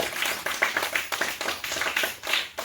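Hands clap in a brisk, steady rhythm at a village gathering around a baba's worship, with a dozen or so sharp, close claps and faint voices in the background.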